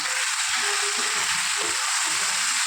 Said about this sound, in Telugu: శుభ్రం చేసుకున్నటువంటి ఈ చికెన్ని తాలింపులో వేసుకోవాలి